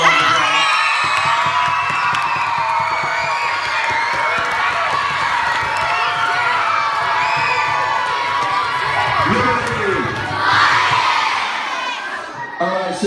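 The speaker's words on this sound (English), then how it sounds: "Let's give her a round of applause." A middle school assembly audience applauds and cheers, with children shouting and whooping over a dense, sustained wall of clapping that stays loud before tapering slightly at the end.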